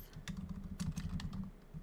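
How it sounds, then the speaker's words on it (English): Rapid typing on a computer keyboard, a quick run of soft key clicks close by and fairly quiet, with no voices. "My typing has gone very downhill."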